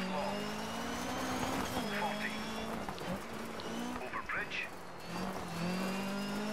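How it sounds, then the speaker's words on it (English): Rally car in the Dirt 3 racing game with its turbo spooling, a steady high whine over the engine drone while a person talks over it. "listen to that turbo"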